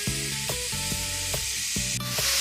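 Ground beef sizzles steadily in a heated frying pan while it is broken up into small pieces, with a constant hiss running throughout and repeated short knocks of a utensil against the pan.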